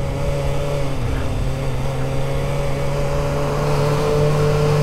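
Kawasaki Ninja ZX-4R motorcycle engine running steadily inside a tunnel in Chiba, Japan, a continuous droning hum with a strong low tone that swells slightly toward the end, heard alone and fairly loud.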